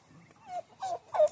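Three short turkey gobbles in quick succession, fairly faint, each a rapid warbling burst, with quiet between them.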